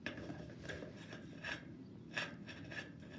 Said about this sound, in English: And I'm going to cut it. Got me some tin snips.